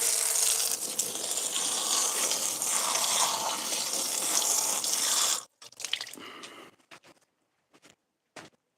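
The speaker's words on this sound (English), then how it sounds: "Here comes the loud water, as Joe said yesterday." Loud gushing water pours steadily for about five seconds, then cuts off abruptly, leaving only a few faint, scattered clinks and drips.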